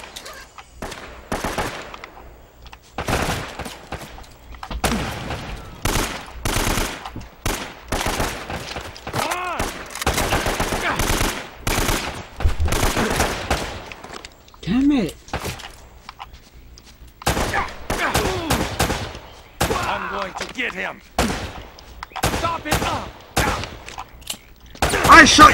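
Gunfire in the video game Uncharted: Drake's Fortune, repeated bursts and rapid volleys of shots in loud irregular clusters, with a voice talking in between.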